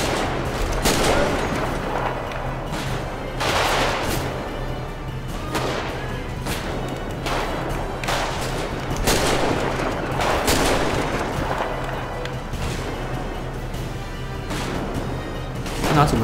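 Sustained gunfire from the GTA 5 zombie mod: repeated loud bursts of shots and impacts across the whole span, some rapid like machine-gun fire, over a steady background with scattered voices.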